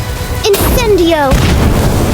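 Incendio fire spell from Harry Potter: Magic Awakened, a short booming burst followed by a rising, whooshing flare of magical effects, loud and close, with a spoken voice over part of it.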